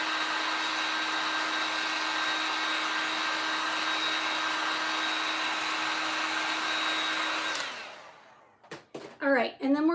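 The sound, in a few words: blow dryer drying nails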